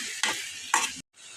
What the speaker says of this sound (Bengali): পেঁয়াজের সাথে এখন আমি চিকেনটাকে মিশিয়ে নিলাম